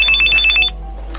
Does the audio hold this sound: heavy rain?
no